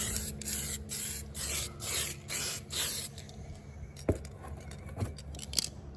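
Aerosol spray paint hisses in a series of close, steady bursts as a coat of red is applied to a 1998 Chevrolet Silverado, followed by quieter handling clicks and taps.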